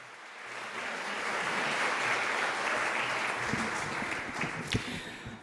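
Audience applause at a scientific conference on infection and immunity, a broad steady wash of clapping that swells and holds, somewhat distant, with no talk over it.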